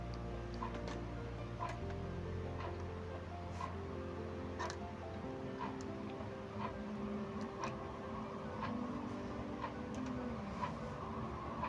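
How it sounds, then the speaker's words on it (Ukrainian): A 220-volt stacker unit for a photo printer, switched on, gives off a low steady electrical hum with irregular light mechanical ticks and clicks throughout, close by and without speech. "Далі беремо у нас сам стекер, що йде на 220 вольт, і вмикаємо його в розетку."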